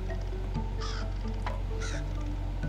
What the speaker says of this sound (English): I love the crow sound effect.